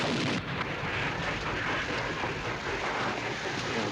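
A distant field artillery gun fires in wartime countryside, a low muffled boom that rolls out into a steady rumbling wash with no clear sharp crack.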